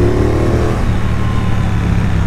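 A 2023 Triumph Bobber Chrome motorcycle rumbles through its standard exhaust pipes while cornering, a steady, loud, close engine note throughout.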